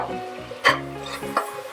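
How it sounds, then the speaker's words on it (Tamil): Tomatoes stirred into onion and ginger-garlic paste frying in a pot for mutton biryani, giving a low steady sizzle with two brief scraping stir strokes close by, no talk. "போனதுக்கப்புறம் இப்போ தக்காளி போட்டு கிண்டுவோம்"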